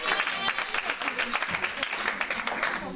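A church congregation claps and cheers to acclaim the Lord at an evening vigil, a steady dense wash of applause throughout with voices mixed in.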